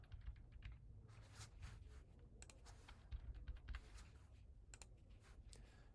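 Steady typing on a computer keyboard while entering a phone number into an online enrollment form, rapid clicking keystrokes running throughout at close range with no talk.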